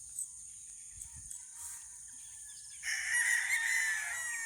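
Stag roosters crowing on a farm in the early morning, with a few distant calls early on and then a louder, closer crow near the end over quiet background.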